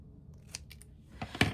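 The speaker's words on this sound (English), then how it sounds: "And then I'm going to trim it with my scissors." Scissors trimming a marked piece of craft material for a tote clip, heard as a few quick, close snips near the end after a brief softer rustle.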